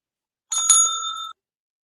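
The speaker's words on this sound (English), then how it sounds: "Ah, my bell." A single bright ring of a small bell, a sharp metallic strike with a sustained ringing tone that fades after under a second, heard alone in silence.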